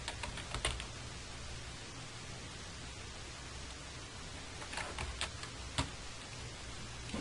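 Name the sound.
typing on a computer keyboard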